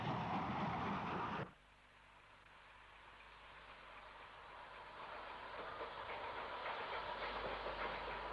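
Southbound parcels train hauled by a V2 steam locomotive, a loud rush that suddenly drops off, followed by a softer rolling rumble of the train that slowly builds again.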